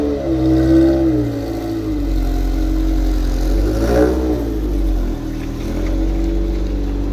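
A car engine revs loudly to about 3,000 RPM, its low rumble rising and falling in pitch over several seconds, close by with no talking.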